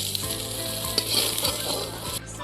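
Mutton nali (bone marrow) pieces and potatoes fry in a pan, giving a steady dense sizzle with a few sharp clicks and scrapes, close and fairly loud, with no voices.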